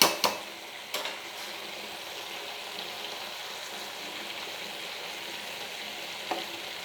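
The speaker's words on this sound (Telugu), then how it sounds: "సో ఇదంతా కూడా దగ్గరకు వచ్చేదాకా మీరు తిప్పుతూ ఉండండి అడుగంటకుండా" Bread halwa being stirred in a pan to keep it from sticking, a soft continuous sizzle and scraping with a few sharp clinks of the spoon against the pan near the start and one near the end.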